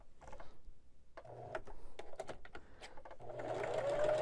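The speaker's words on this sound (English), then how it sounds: "I'm just going to do a straight stitch" A sewing machine runs a straight stitch along pillow fabric cut from a Christmas tablecloth. Soft clicks come first, then the motor hums up into a steady close whir.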